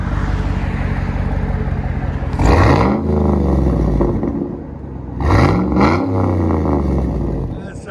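A GMC Yukon V8 engine revved hard twice, each blip rising to a loud roar and then falling back to a rumbling idle, heard up close with no talk.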